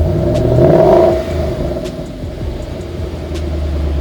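A close Ford Mustang GT engine with stock exhaust gives one quick rev that swells and drops back to a low, rumbling idle.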